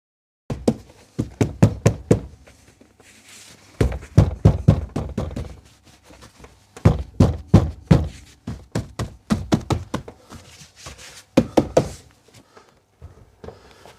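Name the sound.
pressing door panel clips into holes on Rolls-Royce Silver Spirit III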